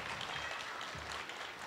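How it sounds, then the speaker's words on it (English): Audience applause at a Christian school's 2024 talent show greets the judges as a soft, steady patter of clapping heard from a distance. "please give them a round of applause for being here today"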